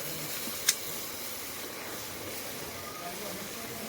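Green chillies and ginger-garlic paste sizzle in hot tempering oil with a soft, steady hiss, a single sharp crackle near the start, and a voice talking over it.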